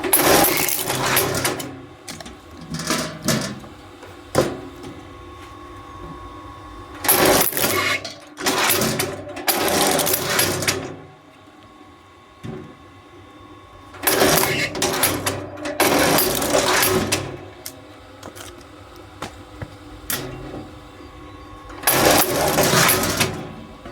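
A 10-ton kinetic log splitter splits dry, nearly year-old apple wood in repeated loud bursts of cracking and mechanical clatter, with quieter gaps between strokes.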